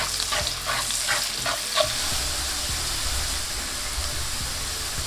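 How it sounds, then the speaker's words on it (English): Onions and garlic sauté in hot butter and oil, giving a continuous close hiss and sizzle with a few light scraping stirs early on. "throw in your onions and the garlic. Give that a mix and you want to lightly saute this"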